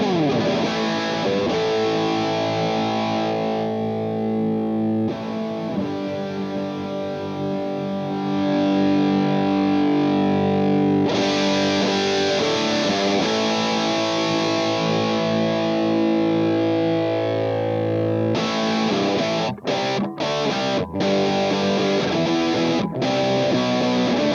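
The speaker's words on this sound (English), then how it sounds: "I'll show you the tone sweep now from all the way off to all the way on" A heavily distorted electric guitar through a Harley Benton Plexicon pedal plays sustained chords and riffs, its brightness shifting from dark and muffled to harsh and fizzy as the tone knob sweeps from fully off to fully on.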